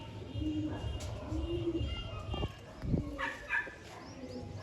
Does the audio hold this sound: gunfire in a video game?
no